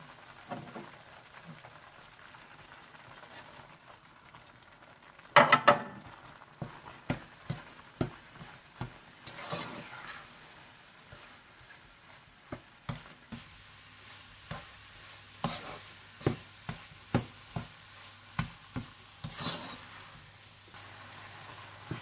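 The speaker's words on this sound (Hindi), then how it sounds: "और जब दाल अच्छी तरह से भुन जाए तो आप इसमें चीनी डालकर अच्छी तरह से मिक्स कर लें।" Sugar is stirred into gram lentil (chana dal) halwa frying in a pan: a soft steady sizzle broken by repeated scraping, clacking spoon strokes, close and fairly quiet, with no talking.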